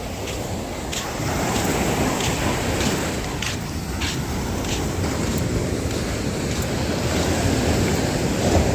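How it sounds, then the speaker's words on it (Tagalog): Calm sea waves wash and break gently on the shore in a continuous soft roar, with light wind buffeting the microphone. No one speaks. "kalmang kalma lang ang dagat ngayon ang alon laang sa baksak lang naman sa tabi"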